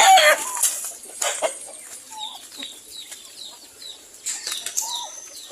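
Young pullets on a small farm, flapping their wings in loud bursts and clucking in short, chirpy calls close by, the flurries of wingbeats broken by quieter gaps.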